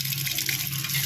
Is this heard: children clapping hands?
no